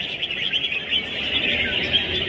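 Caged songbirds sing at a bird singing competition, a bright continuous stream of chirps and trills from several birds nearby, with steady low crowd noise underneath.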